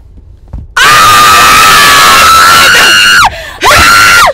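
A person screams very loudly and sustained at close range, one long shrill scream breaking briefly before a second scream resumes.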